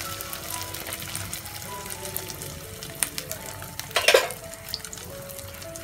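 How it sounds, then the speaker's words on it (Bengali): Beaten eggs spread into a hot pan for an omelette, giving a steady, moderate sizzle of frying that runs throughout, with a brief burst of louder crackle and clatter near the end. "এখন আমি দিয়ে দিচ্ছি ফিনিয়ে রাখা ডিম। এভাবে করে খুব সুন্দর করে বিছিয়ে দিচ্ছি।"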